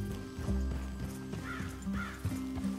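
Horses in the video game Red Dead Redemption 2, hooves clip-clopping in a steady walking rhythm close by, with a couple of soft whinnies over a low background hum.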